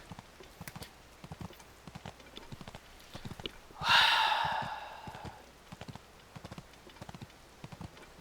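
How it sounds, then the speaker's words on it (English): Hoofbeats of a deer being ridden in The Legend of Zelda: Tears of the Kingdom, a steady run of soft, fairly faint clip-clop steps with a brief breathy snort-like burst in the middle. "Look at the deer I'm riding on."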